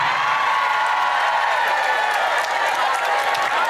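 A dense wash of crowd applause at an Islamic sermon in Merauke, South Papua, fills the whole stretch, steady and loud, with cheering mixed into the clapping.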